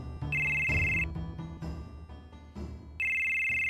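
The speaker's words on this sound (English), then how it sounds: "Pick up the fucking phone!" A telephone rings in Final Fantasy 7 on the PS1, giving two loud electronic bursts separated by a gap that carries a low game background tone.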